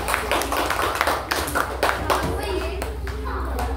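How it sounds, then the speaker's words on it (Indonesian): Children in a third-grade classroom clap for a group of classmates, a quick scattered patter of small hands with a teacher's voice and children's chatter over it. "beri tepuk tangan untuk kelompok 3"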